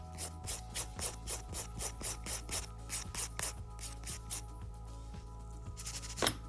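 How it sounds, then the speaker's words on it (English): A hand nail file works over a sculpted thumbnail in a quick series of short, close rasping strokes, about a dozen in an even rhythm, then a short pause and one final stroke, with no talking. "So now we're going to come back with the file to remove any lines the e-file might have made."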